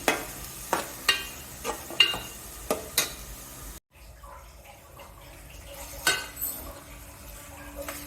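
Onions frying in a pan for a potato and sweet corn curry, a low sizzle running under repeated sharp scrapes and taps of a stirring spoon, with a brief dropout midway and no voices.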